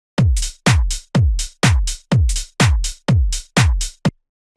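A punchy electronic drum loop: booming kicks with sharp claps hitting in a steady, even rhythm, about two hits per second, loud and dry.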